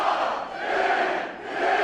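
A large wrestling arena crowd roars and cheers in a continuous, loud swell that dips briefly and then surges again.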